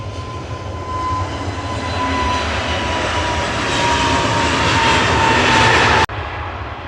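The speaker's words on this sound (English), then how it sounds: "One of the newly based A321s for EasyJet at Manchester." An EasyJet Airbus A321 jet at Manchester Airport produces a steady, swelling engine roar that builds gradually over several seconds and cuts off abruptly near the end, with no talking.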